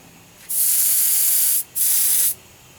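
An airbrush sprays paint onto sheet metal with rivets in two steady bursts of close, loud hissing, the first about a second long and the second shorter, separated by a brief pause.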